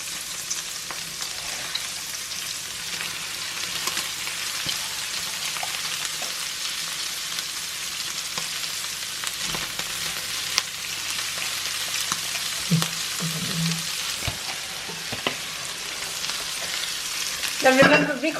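Cabbage frying in a hot pan, a steady loud sizzle throughout with occasional stirring scrapes and a clatter near the end.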